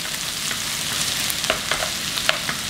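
Vegetables fry steadily in a hot pan, a continuous crackling hiss with a few brief clicks and scrapes of stirring.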